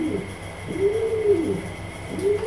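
A pigeon coos close by in drawn-out, rising and falling calls, one long coo followed by the start of another, clear over a quiet background.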